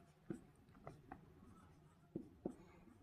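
A pen scratches across paper while a maths solution is written out, quiet close strokes in short irregular bursts with faint tapping accents between them.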